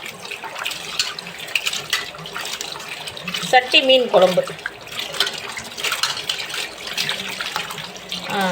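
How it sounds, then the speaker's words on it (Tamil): Tap water runs and splashes while fish is being washed for a clay-pot fish curry, a steady close hiss with bursts of clattering and sloshing, and someone talks over it throughout. "பைப்பையே திறந்து கழுவிடும்"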